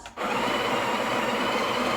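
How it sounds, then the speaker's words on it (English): A Breville Barista Express BES870BKS's built-in grinder grinds coffee beans, starting after a brief quiet moment with a steady, loud, continuous whirring grind that carries on alone to the end. "So we'll grind for 2 seconds to get rid of the old grind"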